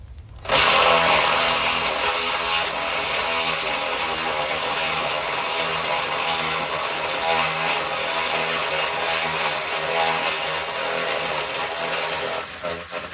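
Power tool loosening bolts on a Ford Fusion during a rebuild, a loud continuous whine that holds steady for the whole stretch, close and alone.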